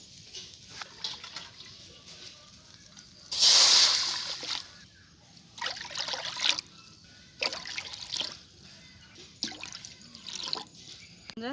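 Water is poured into a pot for egg biryani, starting with a short gushing splash, then lighter intermittent trickles and drips nearby, with no one speaking.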